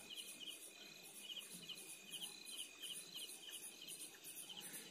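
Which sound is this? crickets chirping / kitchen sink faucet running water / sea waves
crickets chirping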